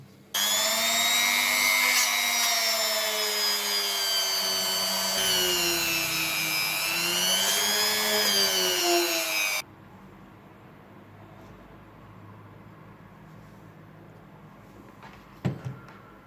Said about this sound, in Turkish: Şimdi ince zımparaya geçelim.